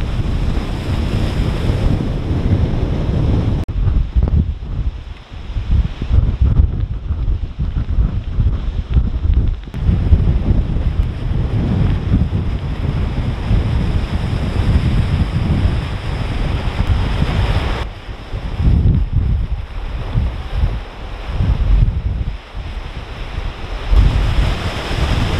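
Storm waves on Lake Erie crash and roll continuously during a fall gale, with heavy wind buffeting the microphone and loud surf surging in repeated waves close by.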